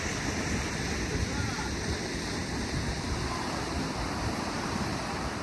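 Steady roar of surf breaking along a shore, continuous and broadband, with wind noise buffeting the microphone throughout.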